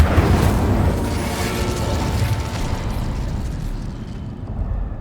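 The Incendio fire spell in Hogwarts Legacy erupts as a loud, dense burst of rumbling, crackling flame that roars throughout and slowly fades toward the end.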